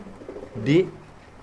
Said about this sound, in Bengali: এই যে হলো কবুতর ভাই দেখেন